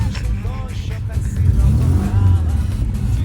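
A car engine rumbles low and rises as the vehicle pulls away, the revving growing louder midway, with people talking over it.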